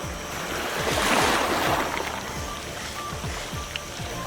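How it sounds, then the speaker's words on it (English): Ocean surf at Africa's southernmost point, where the Indian and Atlantic oceans meet: a broad wash of breaking water that swells and recedes, with rumbling low churn beneath. "The power of the oceans, where the Indian and Atlantic meet."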